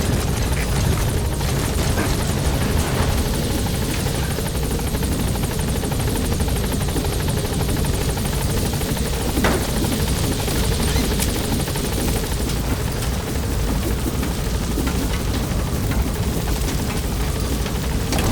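The Pequod helicopter in Metal Gear Solid V sits at the landing zone, its rotors giving a loud, continuous thrumming roar with a steady chop and no gaps, alone with no talk.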